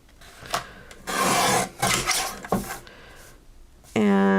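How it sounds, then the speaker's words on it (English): A paper trimmer blade rasping through an A2 card panel in a few scraping strokes, close and fairly loud, with brief speech at the end. "And I will trim this down."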